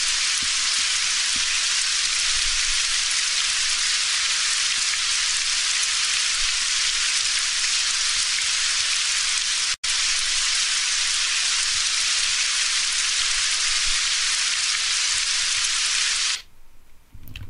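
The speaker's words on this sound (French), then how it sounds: "la pluie est très désagréable dans le jeu" Steady, dense rain in the video game Postal 2 Paradise Lost: a loud, continuous hiss that runs unbroken for about sixteen seconds, with one brief dropout midway, before cutting off.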